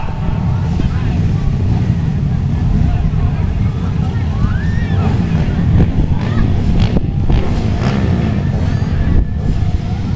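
Motocross bike engines, a mix of two-stroke and four-stroke, roar together in a steady, loud, dense rumble at a beginner Super Cup race. Wind buffets the microphone and crowd chatter runs underneath.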